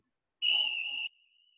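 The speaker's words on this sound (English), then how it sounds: "I don't know if you all have selected the same whistle noise as me" Steady synthetic whistle tone played back in Audacity audio editing software, a single sustained note lasting under a second, clean and loud, then trailing off into a faint thin tail.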